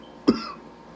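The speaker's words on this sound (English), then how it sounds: "we gonna cough" A single sharp cough, close and fairly loud, followed by a brief fading rasp in an otherwise quiet room.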